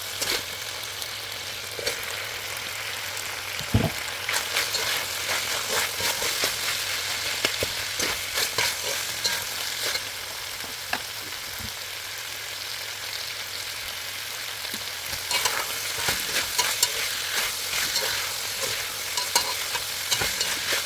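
Onions frying in a pan while being stirred, a continuous close sizzle broken by repeated scraping and clattering strokes of the utensil, steady and fairly loud throughout.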